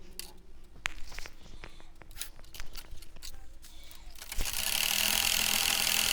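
A sewing machine runs a double seam on a baby's long-sleeved garment: scattered clicks and short stitching bursts at first, then a steady continuous whir of motor noise for the final stretch.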